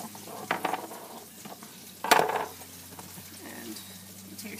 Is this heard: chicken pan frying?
yes